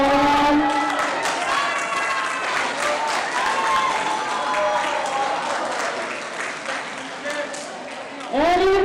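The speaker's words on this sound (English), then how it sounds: "Come on, cheer your friends on" A crowd at a school track and field finals cheers and applauds for a team in a relay result, a dense continuous roar of clapping and shouting voices, with a louder swell at the very end.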